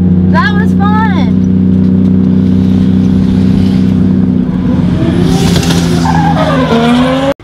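A 2JZ-swapped BMW E46 M3 drifts on a track with a loud, sustained engine drone that drops away as the tires squeal, and excited voices are heard over it near the start and end.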